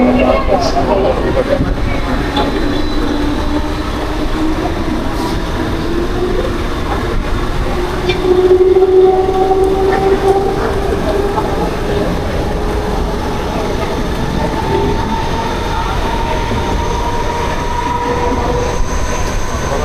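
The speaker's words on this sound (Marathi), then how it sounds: "तर आता फायनल आपण ट्रेन मध्ये बसलो." A Mumbai local train rolls along in heavy monsoon rain with a steady, loud rumble of wheels on track, faint rhythmic clatter and a high wheel whine rising and falling.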